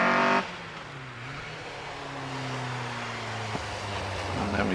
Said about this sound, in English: Keith Adams, meanwhile, out there in the Westfield SEI 2 litre.